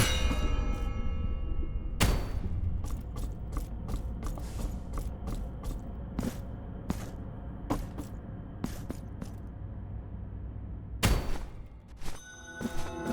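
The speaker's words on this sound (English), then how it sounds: "I don't think bell sounds transfer areas" Metallic bell clangs in the video game Blasphemous, a series of sharp, ringing strikes at irregular intervals over a low mechanical hum, with loud hits near the start and again toward the end.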